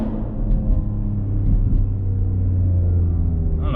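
A 600 hp BMW X3 M cruising with a deep, steady low exhaust rumble heard from inside the cabin, a few faint pops and burbles over it, and a brief crackle near the end.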